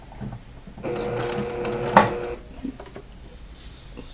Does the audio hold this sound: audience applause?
no